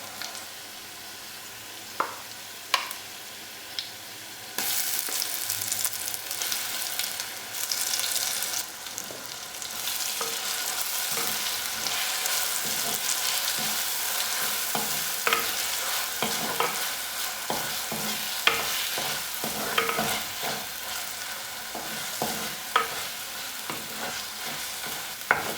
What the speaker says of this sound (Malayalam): ഇഞ്ചിയും വെളുത്തുള്ളിയൊക്കെ ഒരുവിധം വഴന്നു വന്നിട്ടുണ്ട്.